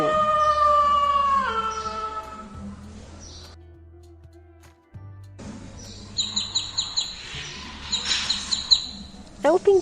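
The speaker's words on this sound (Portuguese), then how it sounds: "É o pintinho." A chick peeps in quick, high, repeated bursts in the latter half, following a lower drawn-out animal call, over a steady musical backing.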